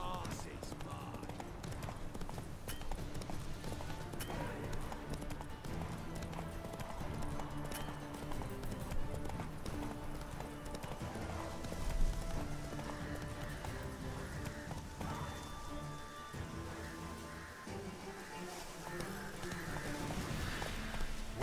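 Roach, the horse in The Witcher 3, gallops in a steady rapid clip-clop of hooves throughout, mixed with game music and sound effects, with a voice talking over it.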